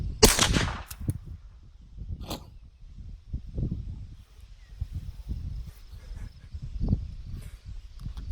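A suppressed firearm fires one sharp, loud shot at close range, with a brief crack and quick decay, followed by quiet outdoor ambience with soft rustling and a faint insect-like buzz.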